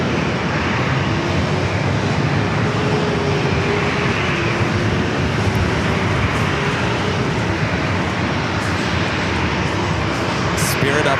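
A San Diego light rail train passes close by with a loud, steady broadband rumble and rush that holds for the whole stretch without easing.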